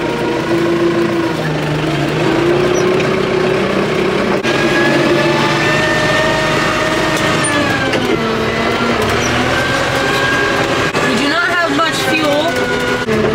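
A Kubota tractor's engine on a cold farm revs up under a foot pedal, a loud, rough drone that climbs and falls while someone talks over it close by.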